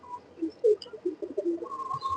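Afsan pigeon, a male breed, cooing close by: low, soft throaty coos in a short uneven series, with faint background noise around it.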